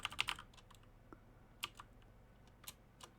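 Sporadic keyboard clicks from typing out a line of C# code at a computer, a quick burst of keystrokes at the start followed by a few scattered, faint taps in a quiet room.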